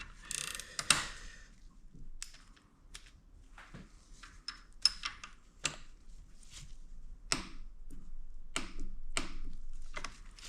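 A gear jammer tool fitted onto the crank gear of an Aprilia Tuono motorcycle engine during valve clearance work, giving scattered metallic clicks, ratchety ticks and light clanks at close range, with no talking.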